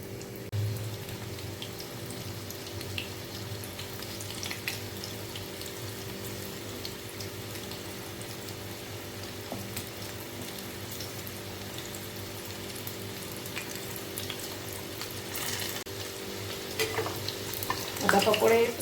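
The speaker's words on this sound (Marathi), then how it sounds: "आता आपण ह्याच्यामध्ये छोटे छोटे असे पकोडे सोडायचे आहेत तेलामध्ये." Small pea pakodas dropped into hot oil and deep-frying in a pan, a steady close sizzle and bubbling throughout with occasional clinks, no talking.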